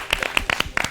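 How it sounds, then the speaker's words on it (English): A short burst of audience applause after a community talk show segment, with separate claps ringing out over about a second, fairly close and moderately loud. "Give them a round of applause."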